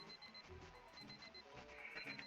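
A phone alarm clock rings steadily and insistently, its repeating electronic tone fairly quiet and continuous throughout, with no voices.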